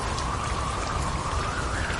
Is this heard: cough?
no